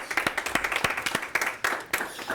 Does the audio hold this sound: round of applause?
yes